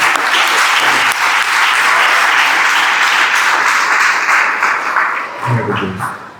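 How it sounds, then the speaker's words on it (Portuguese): Congregation applause fills a church temple inauguration service, a dense sustained wash of many hands clapping together near and loud, easing slightly toward the end as a voice starts to come through. "Palmas para o louvor do Senhor."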